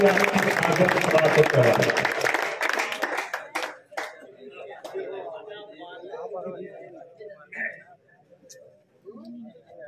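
An audience at an Urdu mushaira breaks into a burst of clapping that dies away after a few seconds, then a voice speaks over a quiet hall.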